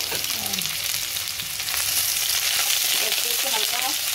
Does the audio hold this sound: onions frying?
yes